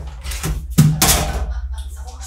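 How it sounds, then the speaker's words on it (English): A single knock or thud at a door, with a sharp hit followed by a brief rumble, set against the background of a FIFA 22 gaming session. "There was something at my door."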